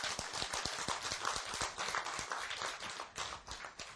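Audience clapping during a Korean lecture, a rhythmic run of distinct sharp claps close by, fairly regular, thinning toward the end.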